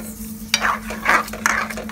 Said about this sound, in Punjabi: ਹੁਣ ਇਹਨੂੰ ਚੰਗੀ ਤਰ੍ਹਾਂ ਅਸੀਂ ਦੁੱਧ ਦੇ ਵਿੱਚ ਮਿਕਸ ਕਰ ਲਾਂਗੇ ਅਤੇ ਨਾਲ ਅਸੀਂ ਚੀਨੀ ਵੀ ਐਡ ਕਰ ਦਿੰਦੇ ਹਾਂ।